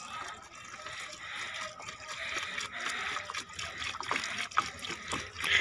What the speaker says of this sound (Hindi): तो ये रहा पौधा, इसमें पानी डालते थोड़ा।